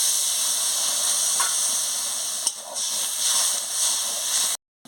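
Water poured into a hot cooking pan for a fish-head curry sets off a loud, continuous hiss that holds steady for several seconds, dips briefly midway, then cuts off abruptly.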